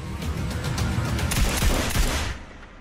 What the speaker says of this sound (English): Shots fired in the embassy.